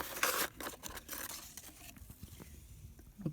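Cardboard package that has already been cut open is pulled apart by hand, with bursts of tearing, crinkling and rustling that are loudest at the start, then quieter scattered rustles and a few light taps.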